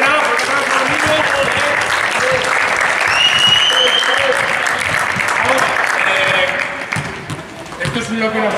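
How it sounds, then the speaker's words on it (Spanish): Loud, sustained applause for children at a basketball clinic, dense clapping throughout with some voices mixed in, tapering slightly near the end. "fuerte aplauso a los niños"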